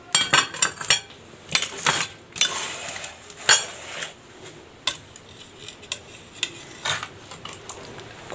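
Crispy kunafa being lifted out of its pan in pieces, with metal utensils clinking and scraping against the pan in a quick, irregular series of close, sharp taps and clatters.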